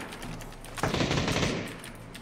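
Rapid automatic gunfire from a firefight in the battle-royale video game PUBG, a dense close burst starting abruptly and rattling on for over a second before tailing off.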